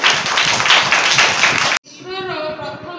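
Primary school children at a government school's National Space Day celebration break into dense, lively applause for just under two seconds before it cuts off and an adult voice begins speaking.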